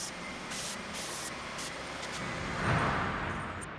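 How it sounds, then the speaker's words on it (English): A sander works the edges of a wooden coffin-shaped candle holder, giving a steady close hiss with brief surges and a slightly louder swell near the end, alone without talk. "I take it to my sander to clean up the edges"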